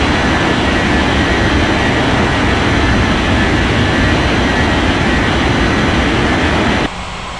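A Southwest airliner rolls for takeoff on runway 36 at a Rocky Mountains regional airport in an air traffic control game, its jet engines a loud, steady broadband roar that holds evenly before dropping sharply in level near the end.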